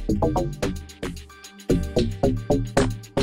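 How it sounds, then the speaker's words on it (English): A deep, punchy log drum bass plays a rhythmic pattern of sharp-attack hits, each note decaying quickly, with a brief gap midway before the groove resumes. "like a log drum, right?"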